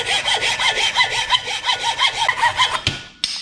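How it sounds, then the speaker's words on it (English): Hacksaw cutting off a part during a Cobra Daytona throttle pedal installation: quick rhythmic rasping back-and-forth strokes, close and loud, then a few sharp clicks as the cut ends. "I guess I can cut that off since we're rolling here with this hacksaw"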